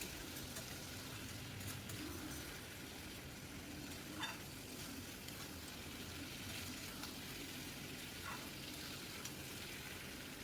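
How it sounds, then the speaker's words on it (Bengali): Steady, faint sizzling of ridge gourd frying in a pan, continuous and even, with a few soft clicks of a utensil. "ঝিঙেটাকে ভাজা ভাজা করে নিতে হবে"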